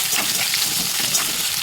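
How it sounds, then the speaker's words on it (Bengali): Chopped onion fries in fish oil alongside bitter gourd, a loud, dense and continuous sizzle with a crackling, rain-like texture close up. "এই যে পেঁয়াজ কুচিটা, দিয়ে এগুলো খুব ভালো মতো একসঙ্গে ভেজে নেব"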